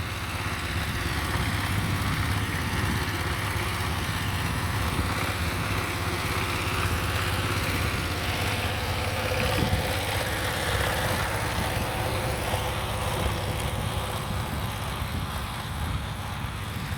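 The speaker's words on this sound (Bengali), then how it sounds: "এইদিকে আবার আরেকটা পাওয়ার টিলার লাগানো হয়েছে এইদিকে কভার করার জন্য।" A power tiller engine ploughs a field during mustard sowing, its steady unbroken drone running the whole time at moderate distance with no talk.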